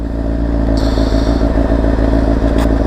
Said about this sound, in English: I'm letting the bike warm up for a second here.